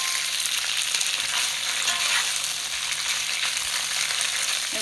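Kale, kimchi, red rice and tofu frying in a pan in place of a wok give a steady, dense sizzle that holds at a loud, even level throughout with no speech.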